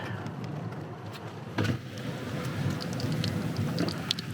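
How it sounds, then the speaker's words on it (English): Steady heavy rain pours down in a dense, continuous hiss, with a few louder drips and splashes standing out close by. "it is pouring pretty badly right now"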